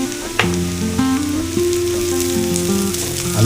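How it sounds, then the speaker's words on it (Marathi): Ginger garlic paste sizzles in hot oil with fried golden onions in a pan for egg masala, a steady close frying hiss with a few sharp pops and faint stirring clatter. "आलं लसूणची पेस्ट टाकायची आहे."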